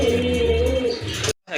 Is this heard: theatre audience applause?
no